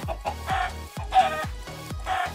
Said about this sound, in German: Huhn.